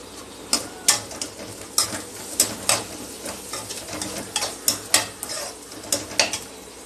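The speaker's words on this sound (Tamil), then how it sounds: "இப்போ இந்த கருவேப்பிலை எடுத்து வச்சுருக்க கருவேப்பிலை போடுறேங்க." Curry leaves tossed into onions frying in a pan give a steady sizzle under repeated clinks and scrapes of a spoon stirring against the pan, close up with an irregular rhythm and no talk.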